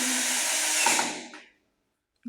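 A loud, steady rotary hammer whine with grinding and rattling, drilling into a block wall, runs for about a second and a half, then cuts off, followed by silence and a brief thump.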